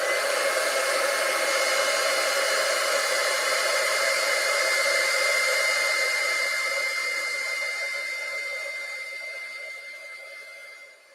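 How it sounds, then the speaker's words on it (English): A heat gun blows steadily at close range, a loud continuous airy roar that holds for most of the stretch before tapering off at the end, with no talk over it. "This might be a little loud. I'm going to turn on the heat gun here."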